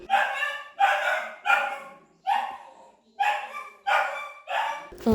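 A dog barks repeatedly in a steady rhythm, seven sharp close barks with short pauses between them, loud and clear with nothing else underneath.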